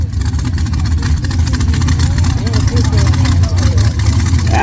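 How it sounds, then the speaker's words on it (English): A big, loud dirt drag racing truck engine rumbles at a North Florida motorplex, a heavy low throb that holds steady and close, with a voice talking faintly over it. "That motor of his, it is big, it is loud, it is nasty."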